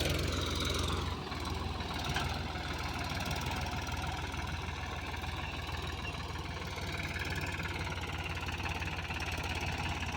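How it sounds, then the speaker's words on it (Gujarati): A Swaraj 742 tractor's diesel engine runs steadily nearby on a farm, a constant low rumble and knocking idle throughout with no talking. "આપણી પાસે સ્વરાજ છે આ ટ્રેક્ટર 742"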